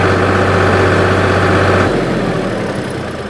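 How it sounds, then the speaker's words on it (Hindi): A tractor engine runs at about 2000 RPM with a loud, steady, close-up drone that drops slightly in level partway through. "तो आप सुन सकते हैं 2000 RPM पे कैसा आवाज़ कर रहा है। साथ ही साथ आप ट्रैक्टर का साउंड सुन रहे"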